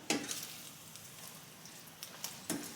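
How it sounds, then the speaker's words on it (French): A food mixture stirred in a pan, a soft continuous sizzle with a few brief scraping clinks of the utensil at the start and near the end, close and fairly quiet. "ensuite je vais mélanger le tout"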